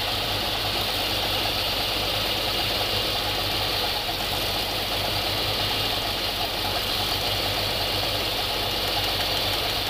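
A GMC 3500 454 V8 idles during a valve adjustment for the whole stretch, a continuous mechanical drone with a faint rapid valve ticking running through it.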